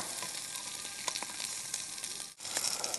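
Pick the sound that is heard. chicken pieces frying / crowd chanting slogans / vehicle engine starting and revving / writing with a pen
chicken pieces frying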